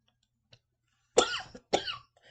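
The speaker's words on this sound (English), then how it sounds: "got a little cough going there." Two sharp, close coughs in quick succession after a brief quiet pause, each with a rough, raspy tail.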